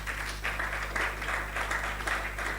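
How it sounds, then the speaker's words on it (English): An audience at a business leadership conference claps steadily, a dense, continuous wash of applause heard from within the hall over a low hum. "A one round of applause, please, everyone. Don't stop clapping till she gets here and takes the mic."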